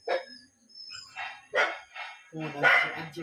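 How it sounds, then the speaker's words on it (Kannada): A dog barks in a few sharp bursts spread across the moment, with voices talking in between and over the barks, close by. "ಈತ ನಾಯಿ ಕೊರೆತ್ತನಲ್ಲ"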